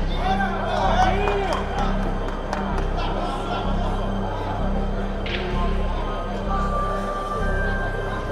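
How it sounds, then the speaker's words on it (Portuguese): Spectators at a pool (sinuca) match featuring Baianinho de Mauá cheering and shouting, an excited crowd roar with overlapping voices and talk throughout, fairly loud and sustained. "a torcida vibrou agora aqui, feito doido aqui, nessa bola do Baianinho"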